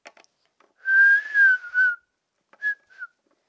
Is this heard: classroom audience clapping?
no